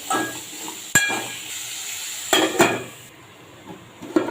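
Beetroot pieces frying in hot oil in a pan, a soft hiss under sharp metallic clatters of a spoon stirring against the pan, several distinct knocks spaced apart.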